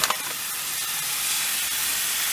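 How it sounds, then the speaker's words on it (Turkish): Minced rib meat drops into hot oil with a couple of quick initial splats, then settles into a loud, steady, hissing sizzle that continues without pause. "Şimdi yağımız kızdı arkadaşlar. Bu güzelim kıymayı şöyle ufak parçalar halinde atıyoruz."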